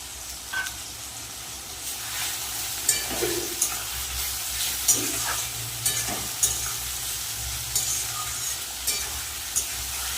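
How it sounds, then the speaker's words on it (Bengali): Prawns and taro are stir-fried in a sizzling pan, with a constant frying hiss broken by periodic scrapes and clinks of a spatula against the pan, close and fairly loud, with no speech. "দিয়ে দেবো চিংড়ি মাছটা"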